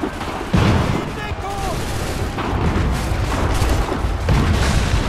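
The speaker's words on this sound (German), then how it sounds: "Okay, die haben gerade geschossen." Battlefield musket fire from soldiers in Assassin's Creed 3, a sharp burst of shots and booming reports rolling over continuous rumbling noise, with a voice briefly heard under the din.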